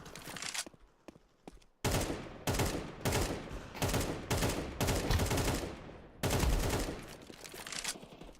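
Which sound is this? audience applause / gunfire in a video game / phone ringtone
gunfire in a video game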